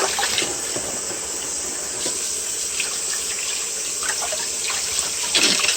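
Tap water runs steadily into a sink while salted pork belly is rinsed, a continuous close gushing stream with occasional splashes and no talk.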